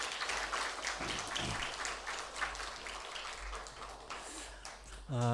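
An audience applauds steadily for several seconds, a dense wash of clapping that fades slightly before a voice begins at the end.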